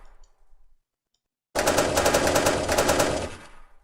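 Rapid automatic gunfire from a vehicle passenger seat in the NeoFPS game: a dense, loud burst of repeated shots lasting about two seconds after a short near-silent pause, then cutting off, with no voices.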